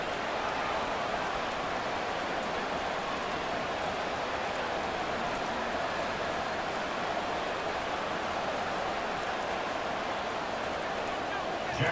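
Steady rain falls across a Madden NFL 24 football stadium, a constant, even hiss of water that holds unchanged throughout, with no talk over it.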